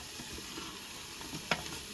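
Soft sizzling of food cooking in an Instant Pot, a faint steady crackle with one brief sharp click partway through, no talking.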